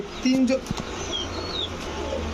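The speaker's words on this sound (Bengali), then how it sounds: "সব পুরান জাতের কবুতর, পুরান ঢাকার কবুতর" Old Dhaka breed pigeons, giribaz among them, give a brief low coo near the start, close by and fairly soft, over steady background hum with faint chirps later.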